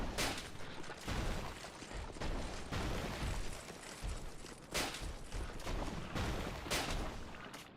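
Repeated gunfire bursts from a randomizer permadeath video game run, dense loud volleys and booms in quick succession filling the whole stretch, with no voices.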